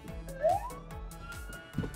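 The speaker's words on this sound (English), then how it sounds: "Do you hear the siren?" A short burst of a fire truck siren rising in pitch, fairly quiet and mixed with low mechanical hum, lasting only a couple of seconds.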